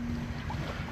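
A sailboat running under genoa alone in about nine knots of wind, steady wind rush and water noise around the hull, loud and continuous with no talk.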